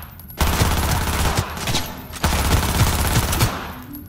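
Bursts of automatic gunfire in the video game Cyberpunk 2077, rapid overlapping shots in two volleys over a steady low rumble, loud and close.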